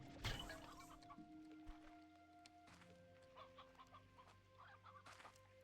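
Hen clucking in the video game Slime Rancher 2, a few short clucks and a sharp squawk near the start over steady game music and tones.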